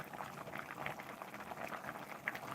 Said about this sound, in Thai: เดือดมากแล้วจัง